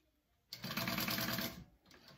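A sewing machine basting fabric for a crossbody wallet, a short, quiet burst of rapid stitching that starts abruptly, runs about a second, then slows and stops with a faint restart at the end.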